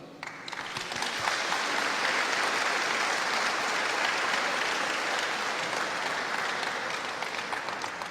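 A congregation at a church service applauds the choir, the clapping swelling in over the first second into a sustained, full round, then easing slightly toward the end.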